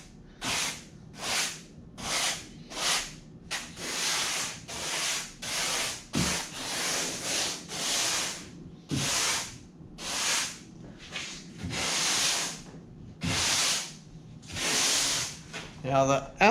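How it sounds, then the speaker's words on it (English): Sandpaper rubs lightly along the rounded foam edge of a homemade 11 ft foam and fabric kayak, in repeated short hissing strokes with brief pauses between, close by. "See, I'm just lightly dusting it."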